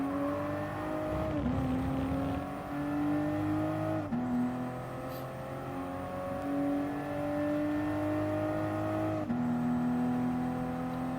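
Racing cars drive in Gran Turismo Sport during a Supra cup race at Fuji: a steady engine drone with upshift drops in pitch, the revs climbing again after each shift, while other engines whir in the background.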